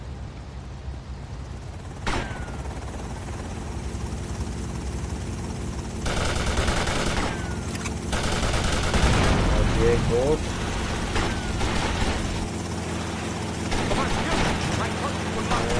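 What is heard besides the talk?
helicopter and gunfire in video game GTA Vice City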